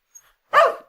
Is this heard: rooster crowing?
no